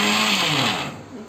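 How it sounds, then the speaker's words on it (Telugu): Electric kitchen mixer grinder whirring loudly as it powders dried soaked rice for sakinalu, a steady high-pitched motor roar with a falling tone as it slows. "Mixie sound."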